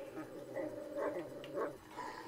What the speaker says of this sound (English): Why is he growling?